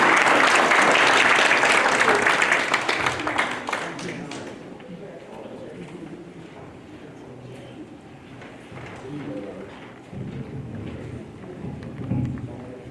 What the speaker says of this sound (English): You guys give them a big round of applause.